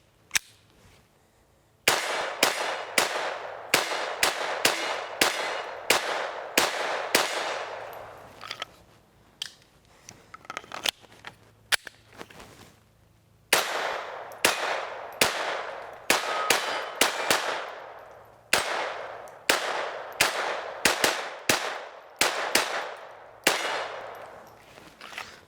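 A Sig Sauer P322 pistol fires rapid strings of sharp shots with Thunderbolt and Winchester hollow point ammunition, two long bursts separated by a brief pause with scattered slower shots, each crack loud and close with ringing decay.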